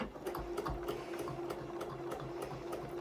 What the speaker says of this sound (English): And I like a top stitching length, which is about a 3mm length